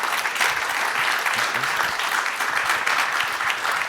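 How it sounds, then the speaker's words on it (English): Audience applause for the panelists at a startup investment conference, an even, sustained wash of clapping from a large crowd with faint voices underneath. "A round of applause for our panelists"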